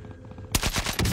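After a low rumbling lead-in, a rapid burst of submachine gun fire in the video game Call of Duty: Warzone on its Caldera map erupts, fast repeated shots close and loud.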